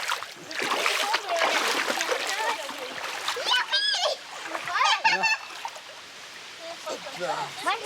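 Children wade through a shallow, cool river, their feet kicking up splashes and water rippling around them. Excited young voices chatter and call out over the splashing, near and lively.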